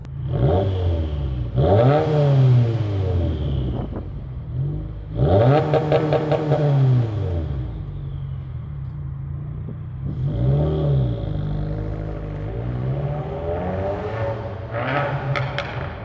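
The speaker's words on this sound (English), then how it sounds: "I will try to get an exhaust clip, and I'll throw that in here." A modified Subaru WRX engine revs hard several times, each rise ending with crackling exhaust pops, loud and close with no talking.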